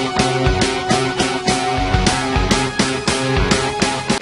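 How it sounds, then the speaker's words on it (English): Rush's YYZ intro plays loud and dense as a full band recording, its rhythm in repeating short-and-long accents spelling YYZ in Morse code, driven by steady pulsing hits throughout. "It spells out YYZ in Morse code"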